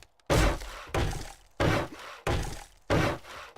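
Repeated heavy thunks of blocks being upgraded in the video game 7 Days to Die, five loud, evenly spaced crunching whacks with no talk.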